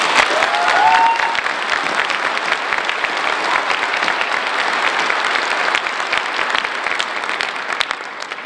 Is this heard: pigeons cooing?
no